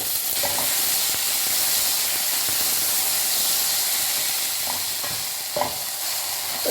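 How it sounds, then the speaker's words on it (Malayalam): Chopped onions and tomatoes fry in a hot pan with a loud, continuous sizzle and hiss. A few scraping stirs break through near the start and toward the end. "രണ്ട് ചെറിയ സവോള അരിഞ്ഞത് രണ്ട് ചെറിയ തക്കാളി അരിഞ്ഞത് കൊടുക്കാം"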